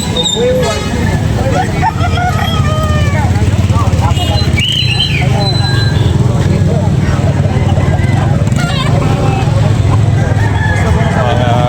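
A rooster crows several times amid loud, constant traffic noise and vehicle rumble, with people talking nearby.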